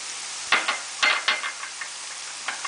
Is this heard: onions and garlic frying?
yes